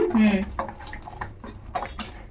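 A vinegar and water mixture is poured into hot milk off the heat to make paneer, giving a short splashing pour near the start that trails into faint dripping, with a voice talking over it.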